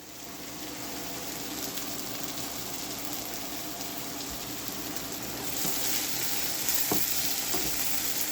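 Garlic frying with chicken in a pan for a chicken in sauce dish, a steady dense sizzle that swells slightly toward the end, with no talk.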